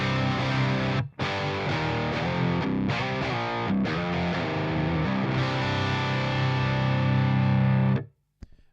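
Electric guitar played straight through amps set to crunch distortion: dense, sustained overdriven chords ringing loudly, with a brief gap early on and a clean cutoff near the end.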